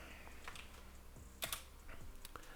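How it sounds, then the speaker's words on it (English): Someone types on a computer keyboard, a soft, irregular run of quick key clicks with a couple of louder taps, faint and close. "my typing is terrible"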